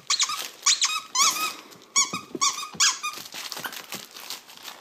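Weimaraner puppies at seven weeks playing over a single squeaky toy, with repeated sharp high squeaks in quick irregular bursts, close and fairly loud, mixed with small yips and faint crinkling.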